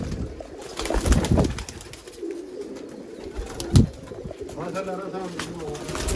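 Sialkoti flying pigeons coo softly and repeatedly close by, with occasional fluttering and people talking quietly in the background.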